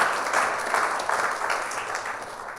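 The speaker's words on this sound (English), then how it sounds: "Cue clapping?" A crowd applauds steadily, a dense wash of clapping that holds for a couple of seconds before slowly tapering.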